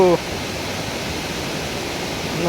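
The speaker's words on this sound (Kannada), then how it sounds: "ಇವತ್ತು ನಾವು ಕಬ್ಬಿನಾಲೆ ಫಾಲ್ಸಲ್ಲಿದ್ದೇವೆ ಇದು ಒಂದು ಹಿಡನ್ ಫಾಲ್ಸ್ ಆಗಿದ್ದು" Kabbinale hidden waterfall in the Western Ghats foothills pours as a steady, broad rushing roar that fills the whole moment, loud and unbroken, with a brief voice at the very start.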